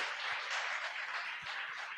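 A congregation claps for the Lord during a church sermon, a steady dense patter of many hands, fairly faint and distant, with no talking over it.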